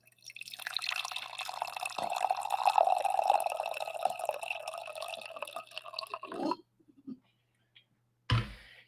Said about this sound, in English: I think I need to pour some coffee here